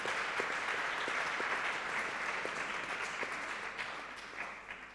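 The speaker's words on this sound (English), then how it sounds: "So I would like to invite you to applause to Professor Provost for this achievement." Audience applause at an academic conference closing ceremony, sustained even clapping from a crowd in a hall, fairly distant and gradually thinning toward the end.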